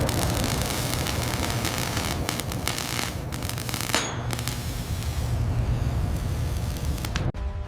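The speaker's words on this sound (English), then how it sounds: "these giant fans move 1 million cubic feet of air every minute" Giant ventilation fans roar inside a marble factory, a dense, steady broadband rush of moving air that runs loud and unbroken throughout, with a brief dip near the end.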